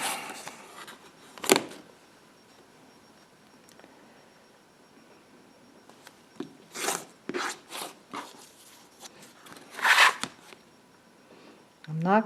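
Paper-pieced quilt units are trimmed along the paper edge to a quarter-inch seam allowance, giving several short, quiet scraping cutting strokes in scattered bursts against a near-silent background.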